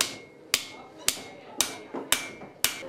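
A blacksmith's hammer ringing on iron in a village forge workshop, six evenly spaced sharp clanging strikes about half a second apart, each with a bright metallic ring that decays before the next blow.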